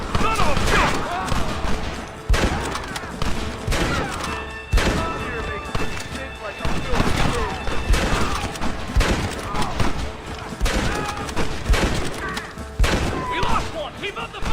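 Sustained gunfire crackles through a Wild West battle against the US Army in the Red Dead Redemption video game: loud, close, rapid shots and thuds that go on without a break, with shouted voices mixed in.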